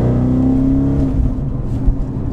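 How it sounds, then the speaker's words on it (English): Naturally aspirated engine of an Audi RS4, loud and close, holding a high steady rev before dropping into a burbling, throbbing idle, with no talk. "listen to how loud this car is"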